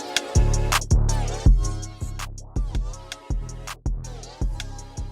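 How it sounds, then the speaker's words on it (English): Hip hop beat with heavy sidechain, everything ducking hard with each kick, producing a pronounced pumping swell and fade in rhythm, loud and without any voices. "it would sound very sidechained and not good at all"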